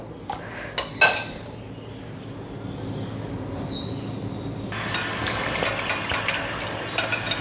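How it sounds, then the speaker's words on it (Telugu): A metal whisk clatters and clinks quickly against a bowl of thin, watery buttermilk batter in a burst of short, uneven strokes, close by with no talking. "సో విస్క్తో ఇలాగ అనేస్తే ఏమన్నా ఉన్నా కూడా పోతాయి అన్నమాట"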